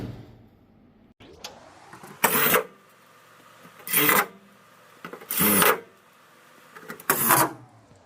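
Self-tapping screws being driven through pre-drilled holes into a squarebody truck hood brace, four loud raspy power-driver bursts of about half a second each, evenly spaced, up close and alone.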